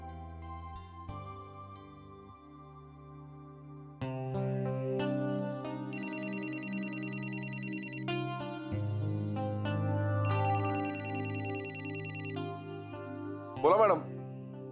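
A phone ringtone plays during an outgoing call in a Marathi household drama: a bright melodic jingle repeating in two bursts over a steady tonal background, fairly loud and clear, ending with a short sharp chime.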